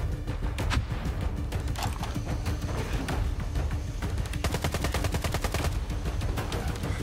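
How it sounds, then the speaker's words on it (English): Rapid gunfire from a sniper rifle and other weapons in the shooter game STALKER 2, a loud, dense string of sharp cracks and bursts that runs without pause over a battle din. "Oh, someone else is firing. Oh, it's a sniper rifle."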